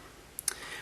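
Camera button being pressed, two small sharp clicks close together, quiet and close, with no talk.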